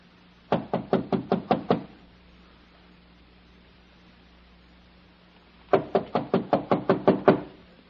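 Knuckles rap a door in two firm bursts of about seven quick, evenly spaced knocks each, loud and close, with a pause of a few seconds between the bursts.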